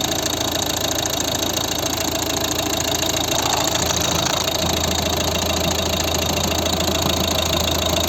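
A 2011 Volvo V50 1.6 HDi diesel engine idles steadily, a continuous knocking clatter with a low hum, close and fairly loud, with no talking.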